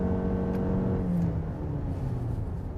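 A Lexus RX engine drones steadily from inside the cabin, its low whine rising in pitch as the vehicle accelerates, loud and continuous, like a fairly loud vacuum cleaner.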